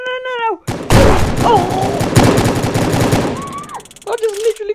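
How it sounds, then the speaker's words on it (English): Rapid bursts of automatic gunfire in the Roblox game Prison Life sound loud and close, with a voice wailing over the shots and game sound effects before and after. "I just literally got shot down!"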